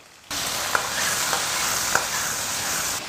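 Blanched pork ribs drop into hot oil with ginger, scallion and spices and burst into a loud, steady sizzle, with a few sharp clacks as they are stirred in the wok.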